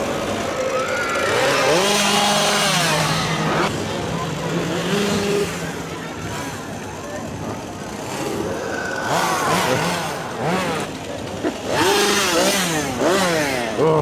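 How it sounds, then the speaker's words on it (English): Very loud chainsaws rev and snarl repeatedly in a crowded Halloween Horror Nights haunt area at Universal Studios Japan, with rising and falling engine whines close by and people talking and shouting throughout. "Very loud chainsaws."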